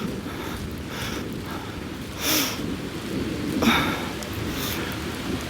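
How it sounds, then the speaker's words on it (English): Steady outdoor rain patters evenly at night while two brief thunder rumbles swell and fade a little over a second apart, with no talking. "I can't get out of the rain. I want to get home."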